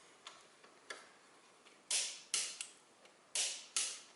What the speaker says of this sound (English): Now we have 40 in the scale, and then I fasten that bolt.